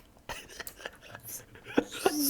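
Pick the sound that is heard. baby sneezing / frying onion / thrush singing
baby sneezing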